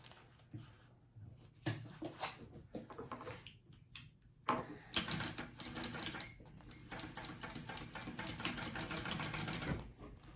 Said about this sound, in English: I'm going to sew down this line, and that will form my dart